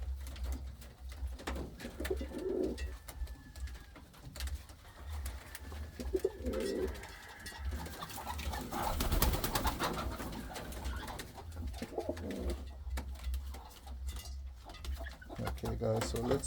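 Indian fantail pigeons coo in a low, repeated rumble from a backyard loft, in soft bursts over steady background noise, with occasional light clinks nearby.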